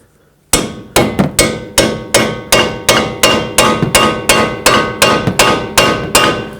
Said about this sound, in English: you can tap them in with a hammer or just let the nut do its thing and pull it through